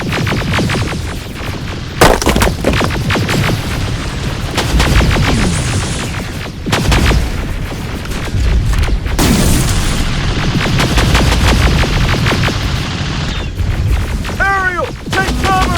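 Battle in the Terminator Resistance video game: rapid gunshots and heavy booms fire in dense, overlapping volleys, loud and close, with short lulls between bursts.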